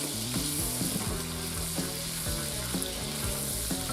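Asparagus sautés in a pan of sauce for shrimp pasta, a dense, continuous close sizzle and crackle with light stirring movement, and no voices.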